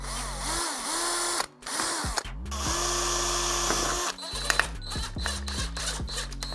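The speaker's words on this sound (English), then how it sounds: "I'm just pre-drilling this windowsill from underneath so I can fix it to this door" A power drill pre-drills a wooden windowsill from underneath, whirring in several short bursts that rise and fall in pitch, loud and close, with brief pauses between runs.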